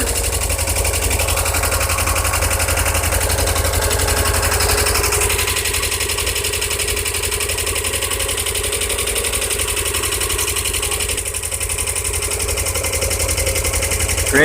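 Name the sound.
Subaru 2.2L engine running in 1982 VW Vanagon, loud lifters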